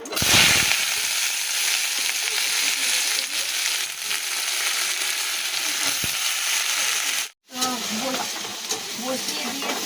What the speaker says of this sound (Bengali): আগে এই আলুটা দিয়ে ভাজি